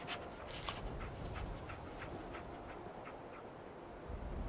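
Dogmeat, the dog companion in the video game Fallout 4, whimpers and sniffs in short repeated bursts over a steady hiss of background ambience, faint and close, with no speech.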